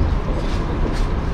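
The Stavropol–Adler passenger train rolls past a station platform in Lazarevskoye, a loud, continuous broadband rumble and roar with no pauses or voices.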